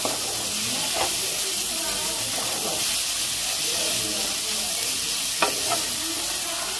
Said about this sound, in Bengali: এবার আমি টমেটোটাকে দিয়ে নেব, দিয়ে ভালো করে নাড়াচাড়া দেবো।